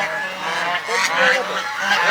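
Farm geese honking loudly and close, overlapping nasal calls continuing throughout with a few harsh blasts.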